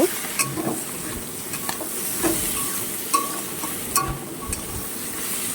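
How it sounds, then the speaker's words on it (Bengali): Bottle gourd and fish head curry stirred in a hot pan, with a steady loud sizzle of frying beneath scattered scraping clinks from the spoon against the pan. "এটাকে আমি ভালো করে এবার নাড়াচাড়া দিয়ে দেব।"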